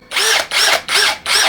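KEELAT 3-in-1 impact drill running at speed 2, four loud, close bursts of whirring with clicking, each about a third of a second, separated by short gaps, no talking.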